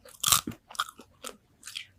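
Spicy fried chicken feet crunch loudly and close up, four or five separate crisp bites and chews spaced through the stretch, with no talking.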